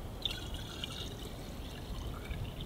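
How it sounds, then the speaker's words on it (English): Water pours and trickles steadily into the priming port of an ECHO WP-1000 high-flow water pump, a close, continuous splashing with faint dripping and no talk. "Then I'm gonna pour some water in."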